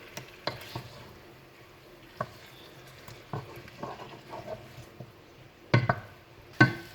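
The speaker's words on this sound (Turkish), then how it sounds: "Şimdi biraz şu şekilde karıştıralım sosumuzda tavuklarımızı" A spoon stirs chicken through tomato sauce in a pot, with scattered scrapes and clinks against the pot over a quiet background, a few sharper knocks standing out near the end.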